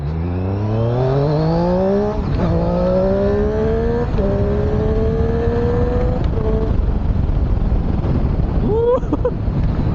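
A 2020 Triumph Street Triple R 765 motorcycle engine revs up through the gears while cornering, its pitch rising in steady sweeps broken by shift gaps, close and loud under constant wind rush.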